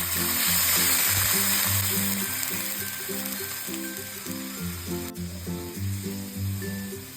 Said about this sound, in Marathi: आता आपल्याला यामध्ये दूध टाकायचं आहे